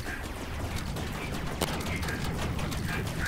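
Rapid laser gun shots in Rec Room laser tag, a video game, firing in a dense bursty stream over steady game noise, with one sharper crack standing out partway through.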